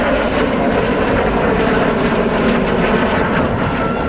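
A Jet Provost T3A jet trainer at the RAF Cosford airshow produces a loud, continuous broadband engine roar that holds steady throughout, close and dominant with no talk.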